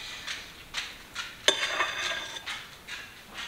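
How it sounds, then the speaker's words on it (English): A ladle scooping runny cheesecake batter and scraping against the mixing bowl, giving soft scrapes and a few light metallic clinks at irregular intervals, close and quiet, with no talk. "I just scoop it and then rub the ladle against the bowl and it doesn't really drip."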